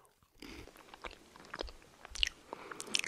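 Close, crunchy chewing of a melting chocolate-covered rice cake, with irregular bites and mouth sounds, fairly quiet and without talk.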